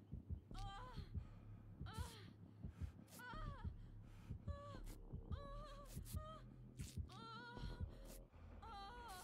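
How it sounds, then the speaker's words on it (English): Heavy, throbbing heartbeat pulses from the killer in the video game Dead by Daylight repeat in a steady rhythm, mixed with game sounds and brief vocal gasps and moans. "His heartbeat sounded like he was just sitting right on top of our friggin' heads."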